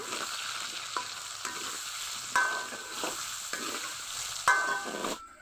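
Chunks of ash gourd and potato with salt and turmeric sizzle steadily in hot oil, with a spoon scraping and knocking in the pan every second or so, close and clear with no talk.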